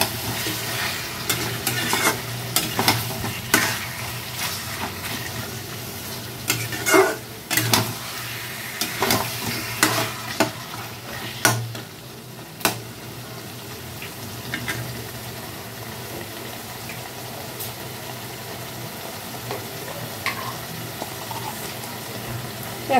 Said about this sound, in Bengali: চিকেনটাকে হালকা ভেজে নেব